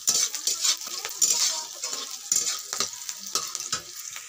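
Onion, garlic and green chili sauté in a pan, with a steady sizzle and frying hiss broken by repeated scraping and stirring of a utensil against the pan, close and moderately quiet.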